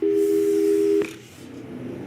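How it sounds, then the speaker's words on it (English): A telephone dial tone from the video game Portal 2 holds steady for about a second, then breaks off with a short click and tone blip before a low, quiet line hum. "let's give your parents a call right now"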